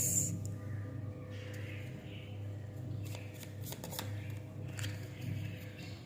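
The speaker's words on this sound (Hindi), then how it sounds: "मैं दोबारा से यहाँ पे शफलिंग करती हूँ, आपके सामने ही कार्ड्स निकालती हूँ" Tarot cards being shuffled by hand, giving soft, repeated riffling and flicking rustles with a few sharper card snaps, fairly close, over a steady low background hum and no talking.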